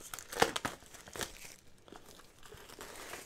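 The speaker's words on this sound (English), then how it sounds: "I'll cut into the box very carefully. I believe the cover just slides off." Scissors cutting into a Pokémon Trainer's Toolkit box, heard as a few close, sharp crinkling snips and rustles of cardboard and wrap, quiet and brief, with no voices.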